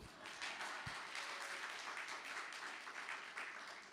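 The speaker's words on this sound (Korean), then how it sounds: "동의하신 분 박수" Church audience at a children's ministry teachers' revival meeting gives a soft, steady patter of applause, fairly distant and diffuse, lasting several seconds without a clear break.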